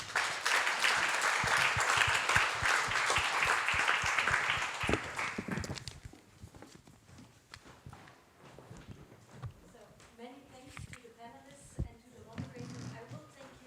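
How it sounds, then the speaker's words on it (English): A conference audience applauds a panel on career mobility in Belgium. The clapping is loud and dense for about six seconds, then fades into scattered claps and murmuring voices. "please, for now, join your hands and give a big applause to our panel here"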